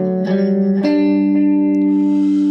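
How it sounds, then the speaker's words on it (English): An electric guitar plays a few plucked notes, each with an echo effect that repeats and trails off, ringing clearly with no talk, in a tutorial for a song. "I suggest you try and put a little bit of echo on it"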